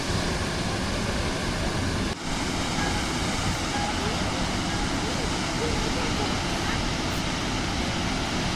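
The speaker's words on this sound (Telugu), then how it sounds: "మేమైతే చిత్రకూట్ వచ్చేసాం వాటర్ ఫాల్స్కి" Chitrakote waterfall roars as a dense, steady wash of falling water that fills the whole span. The sound is broad and constant and has one brief dip.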